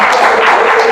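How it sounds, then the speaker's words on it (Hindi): Applause from an audience at a monthly branch meeting, a short continuous patter of hand claps, fairly loud and close, with no voices over it. "इस पे आप लोग ताली बजा सकते हैं ना।"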